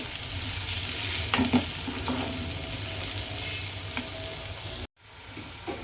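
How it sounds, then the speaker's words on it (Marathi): Turmeric, coriander and cumin powders sautéing in a pan for a dhaba-style whole masoor dal, a continuous close sizzle with spoon scrapes, cutting out abruptly for a moment near the end before returning. "आता हे व्यवस्थित परतून घ्यायचे मसाले"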